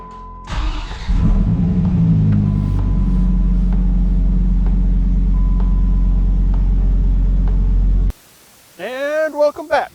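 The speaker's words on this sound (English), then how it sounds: "This is a cold start." A Dodge with a manual transmission cold-starts with a cranking burst, then settles into a loud, steady, rumbling idle. After several seconds the engine cuts off and a voice begins speaking.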